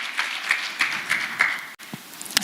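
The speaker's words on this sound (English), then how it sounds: "Let's give our captain a big round of applause" A small audience at a health insurance panel conversation gives brief, light applause for their captain, a thin scattering of claps that fades quickly into quiet room noise.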